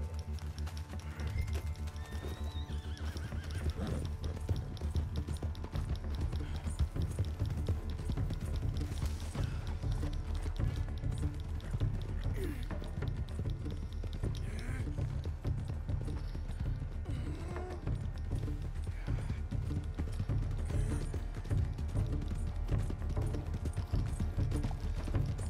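Steady clip-clop of horse hooves at a trot, continuous and fairly close, over a busy game soundscape with music and ambient noise in Red Dead Redemption 2.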